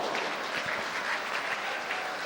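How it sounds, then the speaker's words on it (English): Ice hockey fans at a Nottingham Panthers versus Hull Stingrays arena game give a soft, steady ripple of applause after a missed shot, with crowd noise spread wide across the rink. "Not on target, but gets a ripple of applause from the fans."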